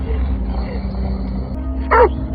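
A dog in a thriller film barks once in a short burst over a steady low drone of background score and ambience.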